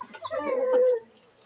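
A chicken on a roof gives a short clucking call, close and moderately loud, over a steady high hiss of background noise.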